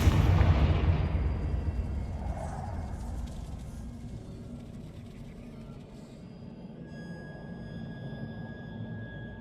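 A Confringo fire spell bursts in Hogwarts Legacy with a loud, deep blast right at the start, then a long rumbling decay fading into quieter ambience, with faint speech.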